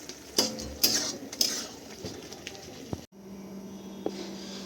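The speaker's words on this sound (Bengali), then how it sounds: "তারপর ভালো করে আবার চিকেনের সাথে দইটা আমি মিক্স করে নেব" A spoon scrapes and clinks against a metal pot while yogurt is mixed into chicken for dahi chicken, with sharp metallic taps early on and quieter stirring and a faint hum afterward.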